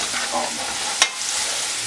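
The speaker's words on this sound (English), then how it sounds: "get these onions browned up, just cook them up" Onions frying in a pan for Brussels sprout hash, a steady close sizzle with one sharp utensil scrape midway and a faint clink at the end.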